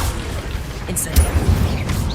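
Casting the Incendio fire spell in Hogwarts Legacy brings a burst of fiery whooshes and deep booming impacts, loud and close, with bright crackling flares clustered midway.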